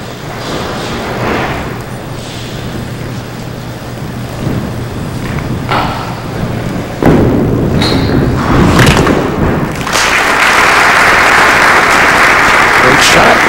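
In a televised 5-pin bowling match, a ball strikes the pins with a crashing clatter, followed by loud crowd applause and cheering in an alley, while a commentator talks over it.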